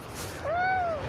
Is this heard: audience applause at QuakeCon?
no